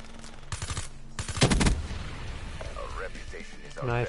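Rapid bursts of automatic gunfire from the video game Black Ops 3, two loud clusters of shots early on followed by quieter game effects and a rising tone.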